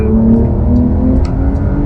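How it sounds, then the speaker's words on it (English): A Porsche 911 Carrera S of the 992 generation with its naturally aspirated flat-six engine, heard from inside the cabin while driving: a loud, steady engine drone and howl filling the whole clip, with no talk. "just listen to the engine howl"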